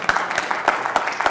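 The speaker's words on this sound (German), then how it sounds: "Das ist jetzt der Applaus" Bursts of audience applause at a German-language agile conference talk, short and uneven, with scattered claps rising and falling over about a second.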